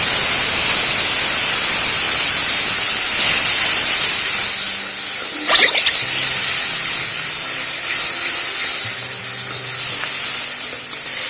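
Coriander leaf, green chilli and garlic paste frying in mustard oil with cumin, turmeric and salt, a steady loud close sizzle with a brief sharper spatter midway, no voices.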